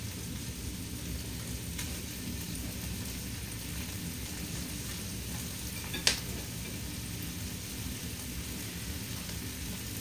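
Beef rolls sizzle steadily in a hot pan while searing, a constant crackling hiss with one sharp clink partway through.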